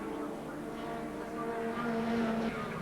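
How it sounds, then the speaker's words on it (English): A BMW touring car at the 1991 Wellington street race pulls into the pits in wet conditions, its engine a steady, moderately distant tonal drone that rises in pitch toward the end. "The BMW has elected to go to slick tyres, so Joachim Winkelhock brings it in."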